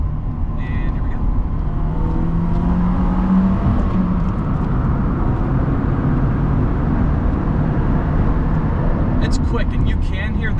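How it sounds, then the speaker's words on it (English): A 1998 Mercedes-Benz CLK230 Kompressor with five-speed manual accelerating through a tunnel, a loud, dense, continuous engine roar reverberating from the walls, heard from inside the car. "It's quick, and you can hear the engine."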